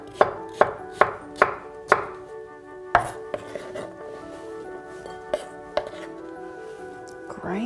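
A knife chops a cucumber lengthways into bite-sized pieces on a board, giving a series of crisp, close chopping knocks, quick at first and then more spaced out, with faint clinks between them.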